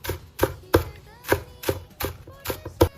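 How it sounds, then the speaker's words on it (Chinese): A kitchen knife chops fresh green onions into small scallion pieces on a cutting board, giving about eight crisp, evenly spaced knocks, close and clear, with no talking. "洗干净之后改刀给它切成葱花"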